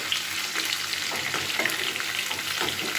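Bitter gourd and potato pieces frying together in a pan for a Bengali curry, a steady soft sizzle with intermittent scraping stir strokes, close and moderately loud, no voices.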